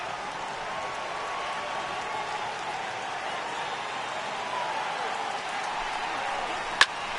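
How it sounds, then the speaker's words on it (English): Steady heavy rain pours over a ballpark in a baseball video game between the Rangers and Indians, a constant even hiss throughout, with a faint crowd murmur beneath and one sharp click near the end. "It's raining cats and dogs out there."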